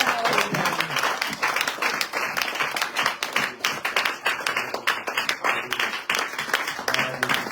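A church congregation claps and cheers during a worship service, with loud, uneven, rhythmic bursts of clapping and faint voices rising beneath it.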